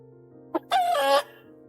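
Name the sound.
rooster crowing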